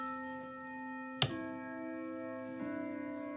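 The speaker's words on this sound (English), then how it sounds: "Ridgeway grandfather clock." A Ridgeway grandfather clock sounds long, steady resonant chime tones with one sharp click partway through and another soft tonal change near the end, close by in a quiet room.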